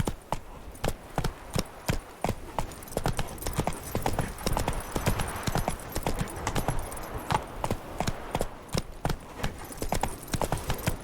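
Hooves of the horse Roach galloping in The Witcher 3, a fast, even clip-clop rhythm that stays close and loud throughout.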